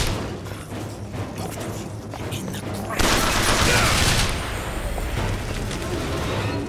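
Turret in BioShock Infinite: Burial at Sea opening up with rapid automatic gunfire, a dense loud burst after a stretch of quieter mechanical clatter and game noise.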